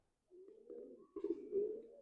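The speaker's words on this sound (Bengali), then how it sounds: "এটা কালদমা পায়রা। কালদমা মাদি।" A female Kaldama pigeon coos softly and close by, giving two low, rolling coo phrases over about two seconds in a quiet setting.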